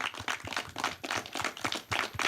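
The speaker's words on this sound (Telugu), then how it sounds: "So big claps to him." An audience claps at a film thank-you meet, a brief burst of rapid applause, close and fairly lively, with no talk over it.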